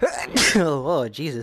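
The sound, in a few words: sneeze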